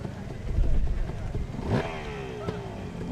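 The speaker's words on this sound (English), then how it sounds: "Two-stroke zinging." A two-stroke hill climb motorcycle engine zings in a rising rev after a rumbling start, then holds a raspy buzz, heard fairly close with crowd and voices underneath.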